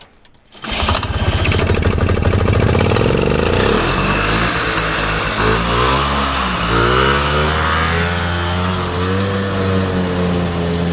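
A vintage Polaris Colt snowmobile engine starts and revs hard, loud and close, its pitch climbing and wavering before it settles into a steady, rough, buzzing run.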